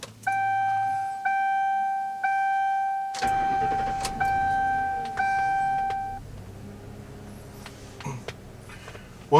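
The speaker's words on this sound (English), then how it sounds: "when you start it, it's almost like the RPMs want to drop way down, and it tries to like bog and shake a little bit" A 2007 Mercury Grand Marquis LS Premium engine starting while warm, with a loud electronic chime repeating several times as the engine catches, then a low, quieter idle as the revs drop and settle.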